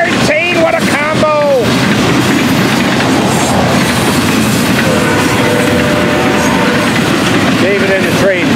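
A Florida East Coast double-stack freight train roars past close by with clattering wheels, while a horn or whistle sounds briefly at the start and again at the end.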